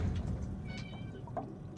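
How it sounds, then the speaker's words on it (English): A pet cat meows a couple of times at moderate distance, short tonal calls over a low background hum. "My cat's calling me."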